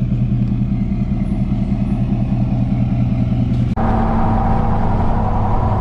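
A truck pulls a new custom-built trailer on its first tow, its engine a steady, loud droning rumble with road noise throughout; a brief click near the end, after which the drone's tone shifts slightly.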